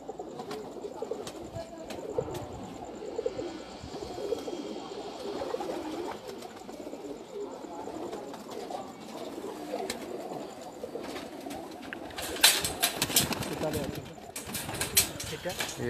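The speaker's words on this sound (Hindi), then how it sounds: "ये एक और कबूतर है जी इनका माशाल्लाह।" Pigeons coo softly in low, throaty murmurs, close by, while people talk over them throughout.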